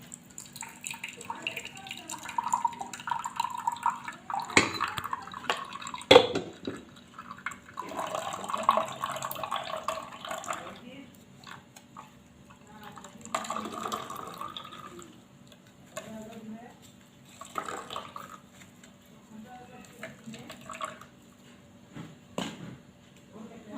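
Liquid trickles and drips as it is strained through a hand sieve in a home kitchen, with ash gourd juice being prepared; a soft, intermittent watery patter sits under a person talking.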